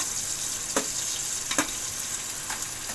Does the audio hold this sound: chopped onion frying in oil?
yes